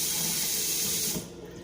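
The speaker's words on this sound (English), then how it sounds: "here's my cold water." Cold water running steadily from a kitchen tap as a hiss-like stream during cooking, loud and close, then cutting off abruptly near the end.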